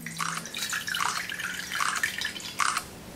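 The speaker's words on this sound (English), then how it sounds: "it captures a lot of those bits of water coming through the sieve" Water poured through a kitchen sieve, splashing and dripping in short bursts of bright trickling, close and fairly loud, with no talking.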